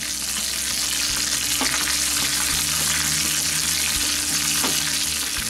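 Tempering for Mysore rasam, with curry leaves and chillies dropped into hot oil, gives a steady, close, dense sizzle and crackle throughout, with a few faint stirring clinks and no talking.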